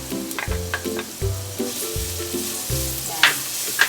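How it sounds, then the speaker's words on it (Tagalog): Garlic dropped into hot cooking oil for squid adobo, crackling in a steady close sizzle broken by rhythmic stirring scrapes and a couple of sharp pops, with no voices. "Since mainit ng ating cooking oil, maglalagay na tayo ng bawang."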